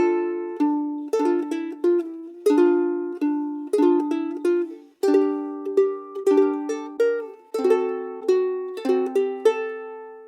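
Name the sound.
ukulele chord melody of a song, bars 5 to 8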